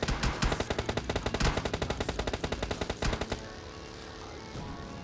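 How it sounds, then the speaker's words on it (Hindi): Rapid automatic gunfire in the video game PUBG Mobile Lite rattles out in a fast, even burst of loud shots for about three seconds, then stops, leaving softer game ambience. "मेरे को गोलियां पड़ रही थी"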